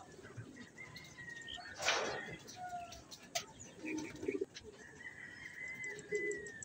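Racing pigeons at a club loft coo softly in the background, with low, murmuring calls recurring under other bird chirps and a brief burst of nearby noise. Quiet outdoor ambience, with occasional distant sounds, surrounds the cooing.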